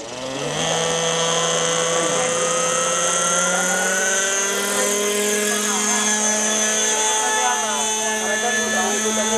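An Agusta helicopter flying, its rotor and turbine making a loud, sustained whine and thrum that rises and shifts in pitch as it passes, with no talk over it.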